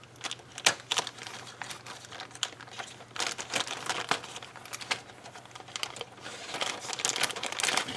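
Plastic bags from an Italeri 1:35 Leopard 1A5 tank model kit being pulled open, close-up bursts of crinkling and rustling plastic in irregular clusters, growing busier toward the end.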